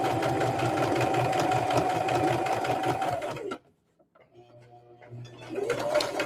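A sewing machine stitching quilt blocks runs at a steady, fast whir for about three seconds, stops into near silence, then starts up again near the end.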